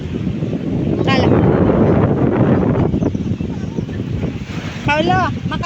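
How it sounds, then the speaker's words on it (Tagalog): Strong wind buffets the microphone in a continuous roaring rush at the seaside, with voices talking intermittently in Filipino over it outdoors. "Mahangin kasi. Mahangin."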